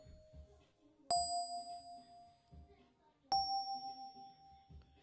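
Isolated keys stem from a song, two bright bell-like chimes ringing out and sustaining, with quiet talking audible underneath between them.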